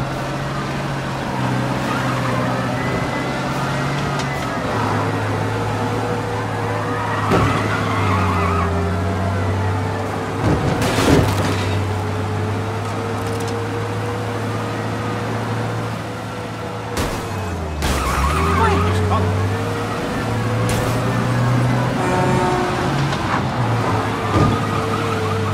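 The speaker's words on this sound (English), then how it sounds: "We lose them by driving real fast and getting clear of them." Car engine in the video game Mafia Definitive Edition roars at high revs through gear changes during a fast police escape, with tire skids and intermittent bursts of noise, steady and loud.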